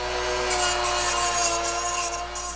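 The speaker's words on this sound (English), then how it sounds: "So we're gonna try to shave those off a little bit with this Dremel." Dremel rotary tool grinding burrs off a hole drilled in flat steel, a steady continuous whirring grind with bright rasping texture, close and fairly loud, no voices.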